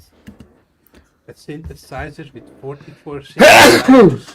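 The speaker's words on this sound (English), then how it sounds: "I tried to mute it and then sneezed in the middle of pressing mute." A single loud, sharp sneeze bursts out near the end, right after someone speaking casually into a microphone.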